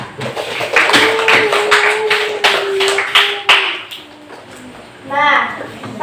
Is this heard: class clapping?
yes